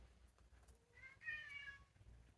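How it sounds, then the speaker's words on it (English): A pet cat sings out a drawn-out, wavering meow in a quiet indoor room, one clear call that rises and holds for about a second, moderately close and alone without talk. "My cat's singing, sorry."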